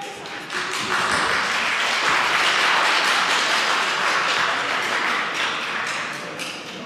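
Public gallery applauding in the Belgian parliament, a brisk crowd of clapping that swells quickly, stays loud for several seconds and then thins out, no speech over it.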